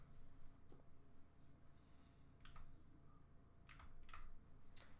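Keys clack on a clicky mechanical computer keyboard, quiet and close, in short irregular bursts of sharp taps over a low steady background hum.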